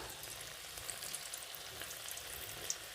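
Coriander leaf pakoras in gram flour batter frying in hot oil, a steady soft sizzle and crackle with small pops throughout, fairly quiet and close with no talking.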